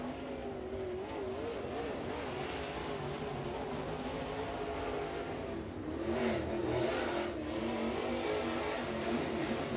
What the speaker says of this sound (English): You can hear that machine trying to get all the grip it can in those corners